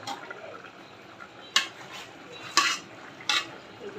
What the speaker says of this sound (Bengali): ঢাকনা খুলে ডাটাটা নাড়াচাড়া দিয়ে দিব